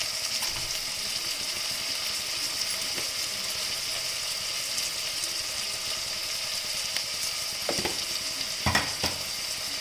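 Mixed vegetables with peas frying in a pot for veg biryani, a steady soft sizzle with a few brief stirring clinks near the end, close and even.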